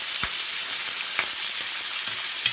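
Garlic, fresh bay leaves and butter sizzling around a steak in a hot pan, giving a loud continuous crackling hiss broken by a few soft spoon knocks, with nobody speaking.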